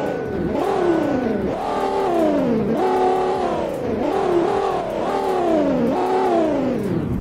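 Loud V10 tow truck engine in the Roblox Greenville game revving repeatedly, about five rising, roaring sweeps in a steady rhythm, each pitching up then dropping back, with no talk over it.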